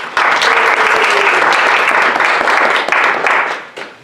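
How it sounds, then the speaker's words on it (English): An audience applauds a speaker at a talk, a loud, dense round of clapping that holds steady for several seconds before tapering off at the end. "So let's give a round of applause for our speaker today."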